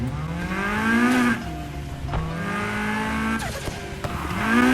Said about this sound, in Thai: เสียงเครื่องเสียงเครื่อง